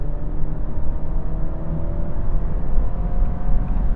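A 2025 Alfa Romeo Giulia engine pulling in dynamic mode, a steady, smooth low drone with a faint rising whine, heard from inside the cabin with no talking.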